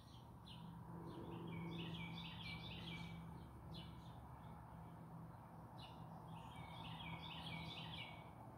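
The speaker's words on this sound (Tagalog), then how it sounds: "Marami kayong maririnig ng mga ibon dito." Birds chirp and sing in a garden surrounded by many trees, repeated bursts of high, rapid twittering coming from middle distance over a steady low outdoor hum, with no talking.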